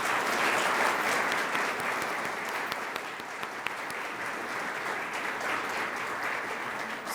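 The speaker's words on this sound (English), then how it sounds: "Let's give them all a round of applause." Sustained applause from a seated audience at a regional mayors' gathering, steady dense clapping that fills the room and holds at an even level for several seconds, with no voices over it.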